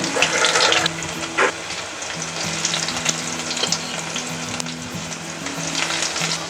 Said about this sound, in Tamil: இப்போ எண்ணெய் நல்லா காய வச்சு நம்ம எல்லா பீசஸையும் உள்ளே போட்டுடலாம்.